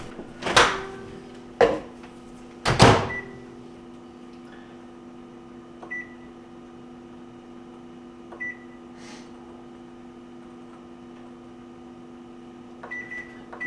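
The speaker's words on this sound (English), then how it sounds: "So let me throw this in the microwave" A microwave oven used to melt white chocolate gives three sharp door or button clunks near the start, then runs with a steady hum while a few faint beeps sound at intervals.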